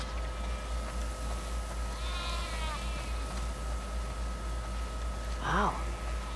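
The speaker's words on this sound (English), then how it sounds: "Wow, that's a lot of sheep." Sheep bleating in The Last of Us Part II, with a faint wavering bleat early on and a clearer, louder bleat near the end, over a steady low ambient hum.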